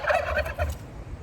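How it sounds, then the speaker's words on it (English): Turkeys gobble loudly and close by in a farmyard, several excited calls overlapping in quick bursts during the first second before trailing into quieter rustling. "You hear these birds? They're crazy."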